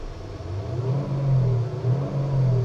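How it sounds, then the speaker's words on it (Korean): A steady, low engine rumble rises and swells slightly, a simulated exhaust note played through the speakers of a 2024 KGM Actyon, with no talking. "지금 이게 배기가 작동이 된 소리고요."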